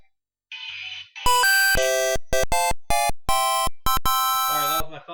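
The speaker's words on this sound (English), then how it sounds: "Sorry, that was my phone there." Mobile phone ringing loudly nearby, a bright electronic ringtone pulsing in repeated short bursts of varying length after a brief softer tone, then cutting off as a voice begins.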